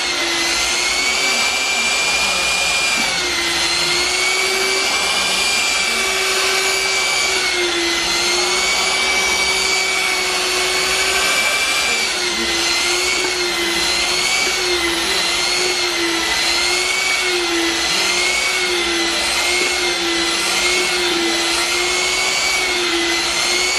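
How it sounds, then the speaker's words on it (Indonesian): An electric rotary machine for bonsai work, The Max 30, runs in a workshop with a loud, continuous motor whine, steady and close throughout with a slight wavering in pitch and no talking. "Kalau ini mesin putar Om. Mesin putar. Mesin putar elektrik."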